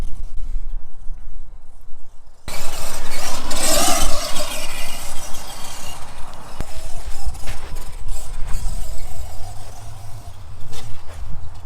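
An FMS Ford F100 1/10-scale two-wheel-drive RC monster truck drives and drifts outdoors at full throttle, its motor whine and rattling drivetrain loud and continuous after a quieter opening, rising and falling as it slides around.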